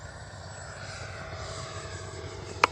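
A Freewing 80mm L-39 RC jet in flight gives a steady, faint engine whine with a smooth airy hiss, heard alone for nearly three seconds and ending in one sharp click.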